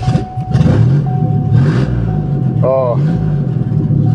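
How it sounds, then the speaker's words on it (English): Ford Taurus engine running without exhaust manifolds, a loud, rough, steady low drone close by, with someone talking briefly over it. "I love the sound of no manifolds in the morning."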